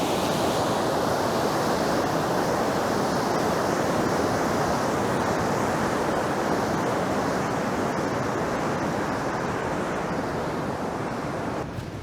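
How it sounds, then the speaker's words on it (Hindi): Fast-flowing stream water rushes at a hiking trail water crossing, a loud, continuous broadband roar that holds steady for about twelve seconds, close by, with no voices. "ये वाटर क्रॉसिंग है, और ये पानी का बहाव तो काफ़ी तेज़ है वैसे।"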